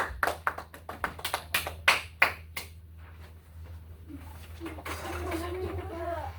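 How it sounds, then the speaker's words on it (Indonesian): In a small classroom teaching practice, a few people give group 3 sparse applause: about a dozen separate claps over two seconds. The clapping fades, and a voice begins talking. "Kita beri terlebih dahulu aplaus untuk kelompok 3"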